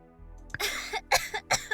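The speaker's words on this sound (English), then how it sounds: "She was racked with another cough fit." A woman coughs several times in a short fit, dry, close, and moderately loud, with brief pauses between the hacks and no talking.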